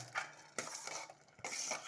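Chopped radish tumbles into a pan with clattering and scraping of a spoon against metal, a few distinct knocks over a steady rustle.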